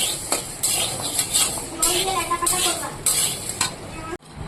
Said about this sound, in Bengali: এই ডালের মধ্যে আমি জল দিয়ে দেবো